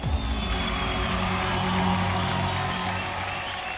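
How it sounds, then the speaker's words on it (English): Audience applause at a Happy New Year 2022 stage event, a dense, steady wash of clapping with faint cheers that stays loud and continuous throughout. "A huge round of applause, please."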